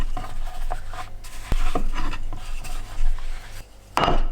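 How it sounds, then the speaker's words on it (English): A rolling pin pressing tortilla dough thin on a floured work surface, giving soft irregular rubbing and scraping strokes with a few light knocks of wood against the board, close up. "we're going to roll each of these out"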